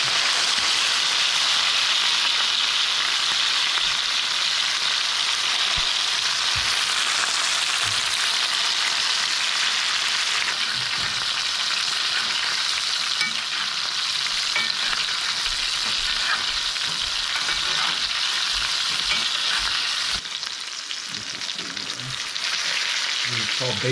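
A ribeye steak sizzles and spits steadily in a hot pan as it is basted, with constant crackling fat, occasional scraping and spoon clinks, and faint talk underneath.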